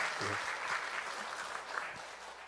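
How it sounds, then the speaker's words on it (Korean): A church congregation at a Sunday afternoon service claps together in welcome, producing a continuous round of applause. A few faint voices are mixed in beneath it. "박수로 환영하겠습니다"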